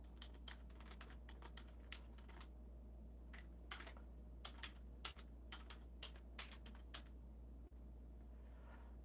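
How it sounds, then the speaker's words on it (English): Fingers tapping out a short message on a computer keyboard, quiet irregular bursts of light keystrokes with brief pauses over a low steady hum, no voices. "I'm going to type in hello and my email address."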